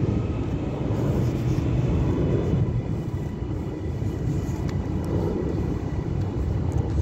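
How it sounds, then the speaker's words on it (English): A steady, loud broadband roar of an EasyJet airliner taking off at Manchester Airport, sustained without a break for the whole stretch, with no voices over it. "there goes a EasyJet off to some far and distant land"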